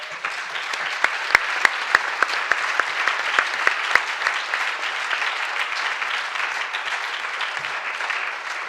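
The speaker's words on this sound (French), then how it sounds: "Beaucoup d'applaudissements aujourd'hui pour vous tous." An audience at a French business conference applauds steadily, a dense wash of clapping with a few sharp, close claps standing out early on, sustained throughout.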